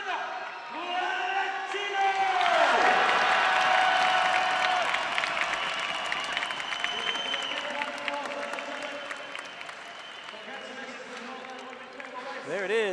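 Spectators at an elite cycling race cheer and applaud the women's podium, a sustained crowd roar with whoops swelling early then easing, while an announcer talks over it.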